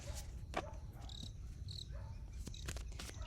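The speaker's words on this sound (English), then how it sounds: "I think there's a cricket right under here." A cricket chirping close by, with short high repeated chirps over a quiet low background hum, faint and steady throughout.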